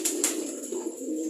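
Pigeons cooing softly nearby, a short run of low murmuring coos with a couple of brief higher rustles at the start, steady and unaccompanied by talk.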